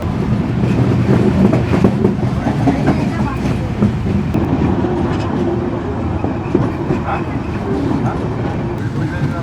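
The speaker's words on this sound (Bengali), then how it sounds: "আমাদের ট্রেনটি এখন ঢুকতেছে নাটোর স্টেশনে" A Drutojan Express train rolls into Natore station in Bangladesh, a loud, steady rumble of wheels and carriages with rhythmic clatter throughout, and a voice speaks over the noise.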